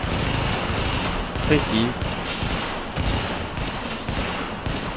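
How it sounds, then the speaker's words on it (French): Burst gunfire in The Division video game, rapid rattling shots repeating continuously through the clip at moderate loudness, with someone speaking French briefly over the shooting. "si je tire sur le mec là-bas, voilà, on tire en rafale un petit peu n'importe où"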